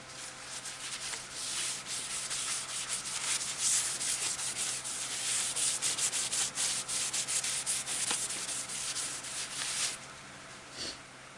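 Sandpaper rubs steadily against redbud wood spinning on a lathe, a continuous hissing scrape for about ten seconds that then tapers off near the end.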